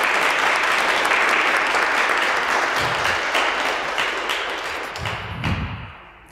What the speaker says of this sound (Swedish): Jag tror vi kan ge henne en liten applåd